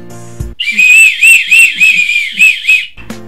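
A loud, shrill whistle blows in a rapid series of warbling trills for about two seconds, standing alone between brief musical sounds.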